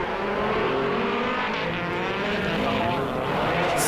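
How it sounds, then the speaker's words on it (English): Drift cars at a Sydney drift event, one with a carbureted V8 and one with a highly strung turbocharged SR20, roar past together in a loud, dense, continuous engine howl under a commentator's voice. "that highly strung turbocharged SR20. Listen to these two things sing."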